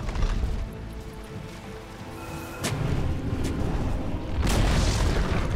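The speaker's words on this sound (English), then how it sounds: "Dire's top tower has fallen." A tower collapses in a Dota 2 match, heard as deep rumbling booms and crashing bursts under the steady clatter of ongoing fighting, growing louder toward the end with no voices.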